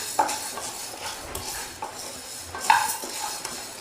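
Urad dal roasts dry in a pan for Kerala rice murukku while a spoon stirs it without pause, giving steady scraping and light clinks of metal, close by, with no voices.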